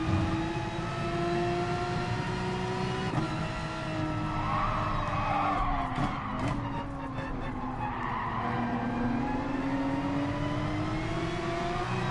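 A Porsche in Gran Turismo Sport skids and loses its rear end, a steady engine drone with tire scrub running throughout, loud and continuous without pause.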